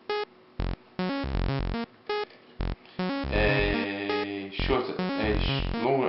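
Prototype µ-modular synthesizer gated by a step sequencer, its envelope set to a shorter release so notes cut off quickly; a run of clipped buzzy tones repeats in a steady pulse, then a denser sequence with brief talk underneath.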